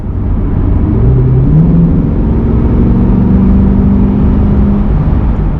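Chevrolet C8 Corvette accelerating at light quarter throttle, a steady loud low engine drone and road rumble from inside the car, pitch rising gradually with speed.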